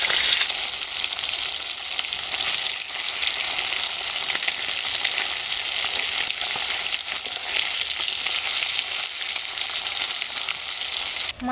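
Pabda fish sizzling in hot oil after being flipped, a dense, even crackling hiss that holds strong for the whole stretch, near and continuous, ending in a brief clunk, with no talking.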